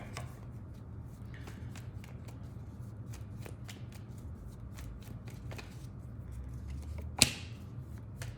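Tarot cards being shuffled by hand, a continuous run of soft riffling flicks over a low background hum, ending with one sharper slap of the deck.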